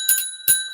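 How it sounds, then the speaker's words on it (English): A small bell rings twice in quick succession, bright and close, each strike a sharp metallic ding with a short shimmering decay. "final ringing of the bell for this one, you guys. The bell has rung."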